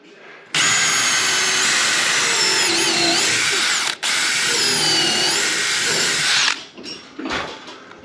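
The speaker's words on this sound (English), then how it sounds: "this drill with a countersink" A power drill fitted with a countersink bit bores into wood boat planking, a loud high whine running steadily for several seconds with a brief pause, then stopping.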